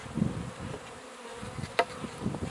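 Honey bees buzz in a continuous, close hum from an opened nuc hive in an apiary, with a brief knock or clatter partway through.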